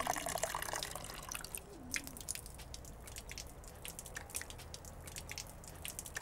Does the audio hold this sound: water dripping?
yes